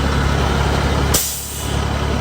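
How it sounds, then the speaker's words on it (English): A truck engine idles loudly and steadily after new injectors were fitted, with a sharp burst of air release partway through before the heavy running drone continues. "But the truck is currently running."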